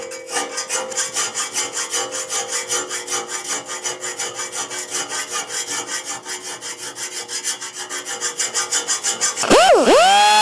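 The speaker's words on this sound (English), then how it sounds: "Got my trusty little file. It's a little bit coarse, so it should take off the metal." A coarse hand file rasps across metal on a Romax bicycle frame in a workshop, making a fast, even back-and-forth scraping rhythm, loud and close, ending with a ringing metallic clang.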